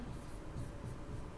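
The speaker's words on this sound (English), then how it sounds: "I'm going to write that one on the board, actually." Marker or chalk scratches across a classroom board in short, steady strokes, close and faint, with continuous faint room noise behind.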